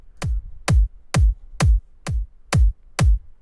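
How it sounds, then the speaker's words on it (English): A lone kick drum thumps seven times at an even, moderate tempo, each hit deep and punchy with nothing else playing. "go solo, and it'll play just the kick"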